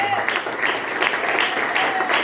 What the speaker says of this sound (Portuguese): Vamos dar uma salva de palmas a Jesus.